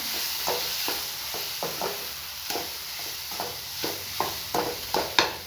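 Semolina is stirred into a banana mixture with a spoon. A string of soft, close scraping strokes comes at an uneven pace over a low background hiss, and no one speaks.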